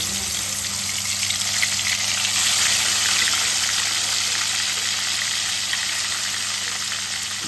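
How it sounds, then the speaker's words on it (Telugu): Chicken pieces hit boiling oil seasoned with shahjeera for a gongura chicken biryani, giving a loud, steady, close sizzle and hiss that holds evenly throughout with no voices. "ఆ చికెన్ బాగా మరుగుతున్న ఆయిల్లో వేద్దాం అనమాట"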